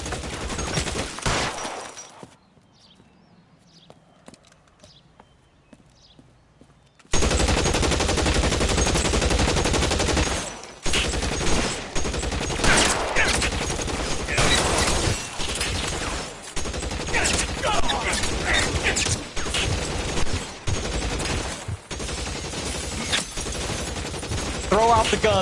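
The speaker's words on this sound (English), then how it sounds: "Shots fired and officers need help at 1452 North Las Palmas." Gunshots ring out in a police shootout in L.A. Noire on PS4, heavy bursts of rapid automatic fire crackling loud and close after a quiet opening, continuing in repeated volleys with brief pauses.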